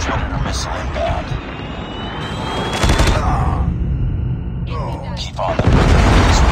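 Predator missile strike in Call of Duty Mobile gameplay, with booming blasts and rattling gunfire in dense layered bursts, plus a game announcer voice over the loud battle noise.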